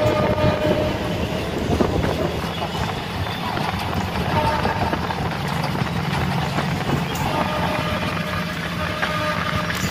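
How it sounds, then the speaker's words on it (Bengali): The Haldia 22330 superfast express rolls through open fields and villages, with a loud continuous rumble and rhythmic wheel clatter heard from on board, steady throughout. "দেখতে পাচ্ছ কত সুন্দর ভিউ, গ্রামের মধ্য দিয়ে, মাঠের মাঝ দিয়ে ট্রেনটি যাচ্ছে।"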